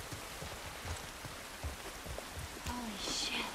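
Rain falling in The Last of Us Part II, a soft continuous patter with scattered close drips and small splashes, fairly quiet and without speech.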